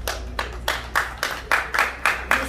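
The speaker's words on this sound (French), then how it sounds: "On peut encore applaudir?" Wedding guests applauding in rhythmic unison, a steady series of about nine even clap bursts repeating roughly every quarter second, moderately loud and close, with no talk over them.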